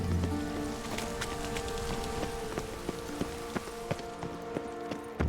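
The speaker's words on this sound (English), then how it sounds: "I like rain." Rain in the video game The Witcher 3, a steady patter of drops on surfaces with scattered sharp ticks and a faint background hum, moderately quiet and continuous.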